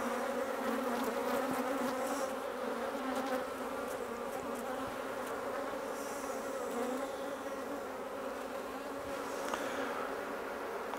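A dense, steady buzz of honeybees on the comb of an open hive, many wings droning together close by for the whole stretch, with faint handling noises mixed in.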